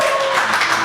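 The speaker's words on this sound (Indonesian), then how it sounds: "Oke, tepuk tangan." Audience applause at a live Indonesian youth event, steady and dense from start to finish, with a faint voice underneath.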